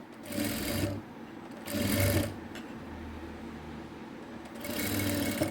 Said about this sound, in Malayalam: ഇതുപോലെ സെൻറ്ററിനോട് ചേർത്ത് വെച്ചിട്ട് നമ്മൾ അടിച്ചു തുടങ്ങുക സെൻറ്ററിൽ നിന്ന് തന്നെ തുടങ്ങണം